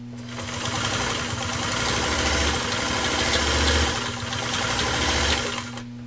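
A Singer Spartan 192K sewing machine with a 0.8 amp motor stitches through five layers of U.S. Army canvas, a loud steady mechanical whir and rapid needle clatter that swells and eases as it is throttled up and down.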